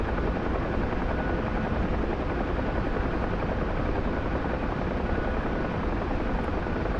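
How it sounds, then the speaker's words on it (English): Aircraft engine drone in a DCS or War Thunder flight simulator game, a steady, loud, unbroken roar with no talking. "it's an interesting plane to fly"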